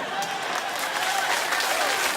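A late-night talk show studio audience claps steadily and loudly throughout, dense and sustained with no voices over it.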